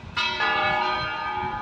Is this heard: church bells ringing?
yes